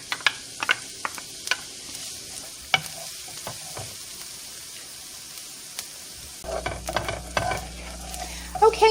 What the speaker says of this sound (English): my onions have been cooking for about 3 minutes